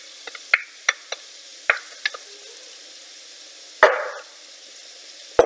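Onions go back into a pan with pork and mushrooms. Sharp clacks and scrapes of a utensil stirring sound close and intermittent, and a louder hissing sizzle swells near the end.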